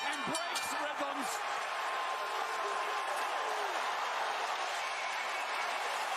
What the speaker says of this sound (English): What a crowd. What an atmosphere here in Cleveland.